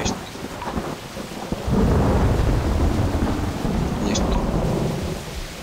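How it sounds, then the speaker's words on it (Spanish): A Minecraft thunderstorm rolls in with steady rain and a deep, loud rumble of thunder that swells after a quieter start and lingers, no voices over it. "Está bien hecho el sonido de la tormenta"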